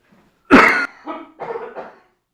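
A single harsh cough bursts out loudly, followed by two weaker, raspy coughs trailing off, close to the listener.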